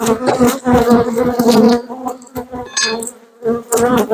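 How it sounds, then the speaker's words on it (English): Honey bees swarm thickly around a hive box after being shaken in, a dense, steady buzzing hum that stays loud and close throughout with small swells and dips. "the bees on the front of the box are already marching in inside the hive"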